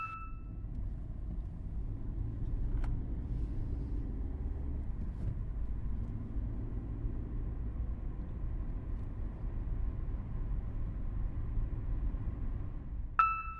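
A car drives along with a low, steady engine and road rumble from inside the cabin, constant throughout, with a faint electronic chime near the start and the end.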